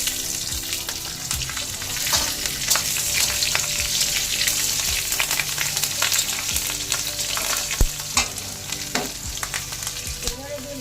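Chopped chillies and bay leaves fry in hot oil in a pan, giving a steady close sizzle with crackles and pops and occasional stirring scrapes throughout.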